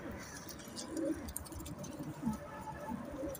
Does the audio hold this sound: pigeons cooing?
yes